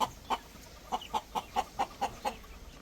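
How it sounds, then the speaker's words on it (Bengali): A chicken sits eating on a farm and clucks in a steady run of about ten short, evenly spaced clucks, close and clear with no talking. "দেখুন মুরগিটা, মাশাআল্লাহ, তো এর বসে বসে খাচ্ছে আর কটকট কটকট করছে"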